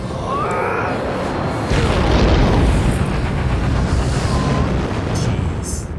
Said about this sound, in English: It did explode on impact.